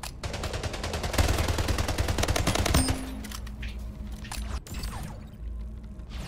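The King Slayer gun firing in a video game: a loud, dense stream of rapid automatic shots for about three seconds, then quieter scattered game effects and mechanical clatter.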